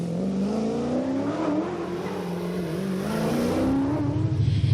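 A historic rally car on a stage at Rally Isle of Man, British Historic Rally Championship: a loud, close engine holds a steady rising drone, climbing through the revs with a throaty edge and a burst of power at the end.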